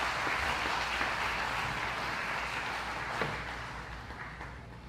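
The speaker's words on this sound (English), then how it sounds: "if we can just give a brief round of applause for our fund committee" Brief applause in a town hall meeting hall for a city fund committee, a broad wash of clapping from a seated crowd that gradually thins and fades out.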